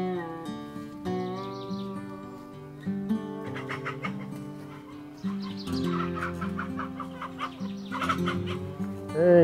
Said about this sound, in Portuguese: Eita, que o galo tá apertando o negócio ali, hein?